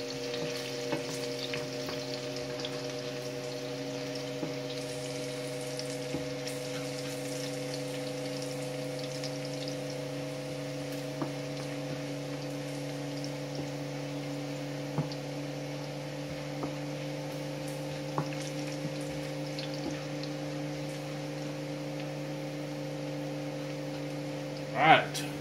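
Food fries steadily on a kitchen stovetop while a range fan hums a constant drone, a quiet, even sizzle with occasional faint clicks and knocks, no one speaking.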